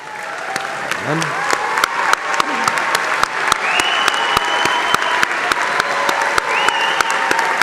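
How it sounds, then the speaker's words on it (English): Honor society students in blue and gold stoles stand at a business school undergraduate commencement while a crowd applauds them steadily, sharp regular clicks cutting through the clapping and a few voices rising briefly near the start. "Please stand, students, for a round of applause"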